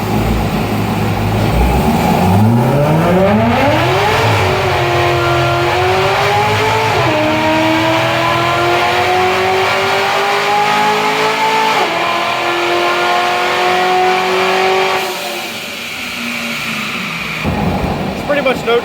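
A supercharged base-model C6 Corvette roars loudly on a dyno, engine note climbing steeply then rising again through gear shifts with a brief 1-2 shift dip, tires spinning for lack of traction, before winding down near the end.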